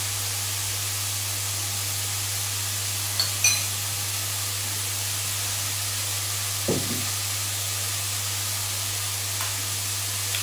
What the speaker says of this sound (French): je vais mélanger 2 cuillères à soupe de sauce tamari dans celle-ci